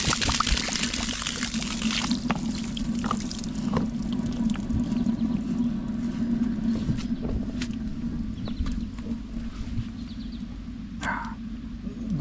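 Water runs steadily from the water pump of an RV, making a continuous trickling and pouring hiss that stays even throughout, with a few faint knocks.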